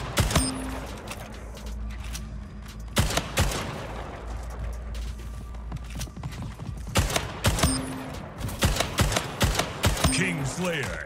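Shotgun blasts and other weapon fire in the arena shooter Splitgate, sharp loud shots in irregular bursts over game music and effects, with a player's voice talking in places.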